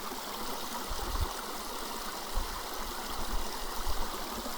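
A low, shallow forest river runs steadily over its eroded bank, giving a constant close-up rush of flowing water with occasional soft low gurgles and splashes; no one speaks.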